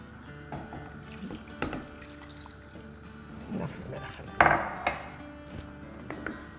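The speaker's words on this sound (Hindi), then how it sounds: "पानी डाल रहे हैं। पानी है गरम थोड़ा, ताकि वो जल्दी पक जाए।" Hot water is poured from a tap-like stream into a new pressure cooker while a dish is being cooked in a home kitchen, a steady splashing flow with light metallic clinks and some speech nearby.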